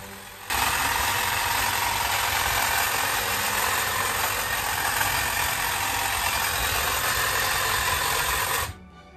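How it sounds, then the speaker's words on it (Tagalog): A hedge trimmer runs at a steady, loud, continuous whine with a buzzing mechanical edge. It starts abruptly after a brief moment of quiet, holds constant for about eight seconds, then cuts off, with no talking. "So ayan, ito na yung ating hedge trimmer. So tara, testingin na natin."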